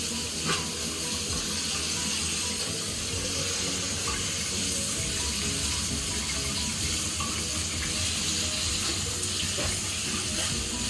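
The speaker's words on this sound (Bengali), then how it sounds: "ওদের পাটাকে এরকম করে ধুয়ে দিতে হবে" Water runs steadily from a tap over a child's feet as they are washed, a continuous splashing hiss that stays close and even throughout with no talking.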